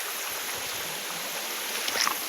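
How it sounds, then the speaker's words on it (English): River water flows in a steady, broad rushing wash, with faint splashes near the end. "This is the river."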